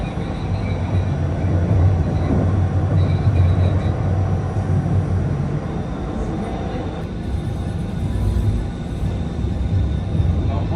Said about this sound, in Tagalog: Antay natin yung ano, train. Diyan na yata.